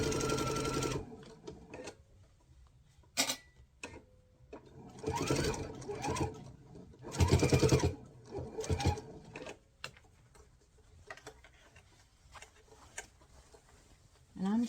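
A domestic sewing machine stitches fabric for a fabric box in several runs of steady whirring, a few seconds each, broken by pauses and handling noise, close and fairly loud.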